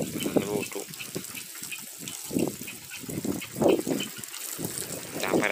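Water gushes and splashes from a garden hose irrigating plants outdoors, a steady rushing flow that surges and dips, close by with someone talking over it.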